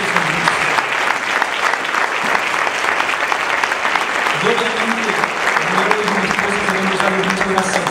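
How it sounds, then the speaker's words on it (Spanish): A church congregation applauds working members of the church, with steady sustained clapping throughout, moderately loud and even, and a voice speaking faintly over it partway through. "Yo quiero que les demos un aplauso a todos los hermanos que trabajan."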